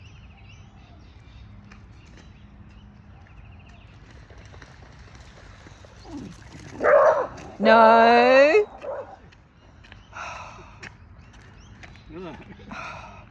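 A puppy dog out on a nature walk lets out a few close yips and whimpering barks in short bursts over quiet outdoor ambience, with someone speaking briefly nearby.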